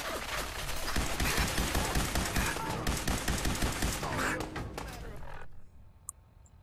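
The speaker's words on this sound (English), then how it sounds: "that chain gun's a threat" A chain gun firing in Fallout 4, a dense, loud, rapid stream of shots rattling for about five seconds before cutting off into near silence with a faint click.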